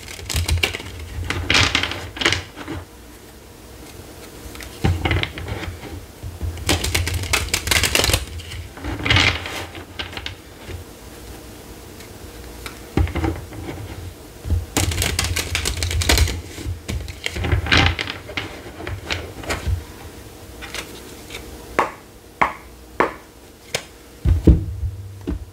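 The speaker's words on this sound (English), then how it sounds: "we're just going to shuffle three more times" Tarot cards are shuffled over and over, with crisp riffling bursts and sharp slaps coming in irregular clusters, close by and with no talking.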